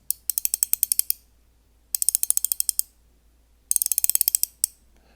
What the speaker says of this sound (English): so here is the drag sound of the 2000 size